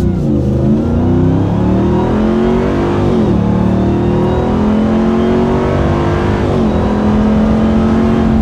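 A RAM 1500 TRX pickup with an MBRP Race Profile cat-back exhaust accelerates hard, its loud, deep engine roar climbing through repeated upshifts with rising and falling pitch, close and continuous with no voices.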